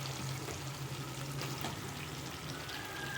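Chicken pieces going into a pan of sizzling tomato masala, giving a steady, fairly quiet frying hiss that holds evenly throughout with no talking.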